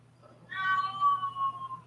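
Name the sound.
cat meowing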